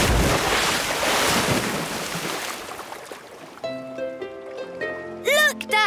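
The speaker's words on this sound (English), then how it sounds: "Prepare for a big splash." A cartoon aircraft landing on water: a loud rushing splash and wash of water that fades, then gives way to bright musical tones and twinkling effects.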